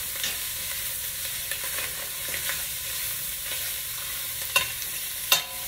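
Smoked sausage and andouille sizzle in a pan, a dense frying hiss punctuated by a few sharp spatula scrapes and taps, close and steady with no talking.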